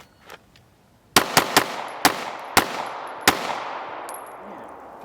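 Six sharp handgun shots in a 3-2-1 shooting drill, fired in a quick pair, a single, then spaced shots with ringing decay between, loud and close outdoors after a brief quiet start.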